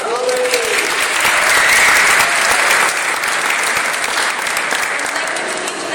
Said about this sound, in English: Let's give Pam and the whole team a big round of applause